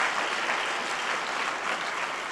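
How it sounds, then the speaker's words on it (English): Steady, dense audience applause fills a hall at a health equity summit, a continuous wash of many hands clapping at even loudness throughout the short stretch. "Yes, you can clap."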